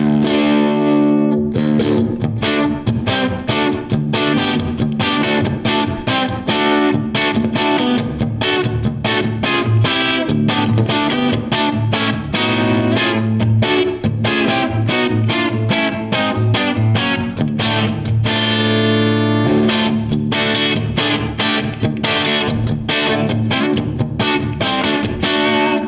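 An electric guitar with a humbucker pickup is played through a Bigfoot Engineering King Fuzz pedal with the guitar's volume knob rolled back, producing a continuous fuzzy, distorted riff, loud and close, with no talking.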